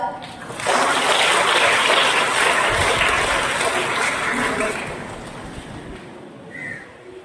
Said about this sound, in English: Please encourage them with your applause